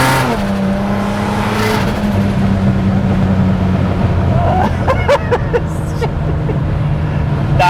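A 578bhp Toyota Camry pulls hard at half throttle, its engine note rising in loud, steady harmonics with background chatter and some clatter later on.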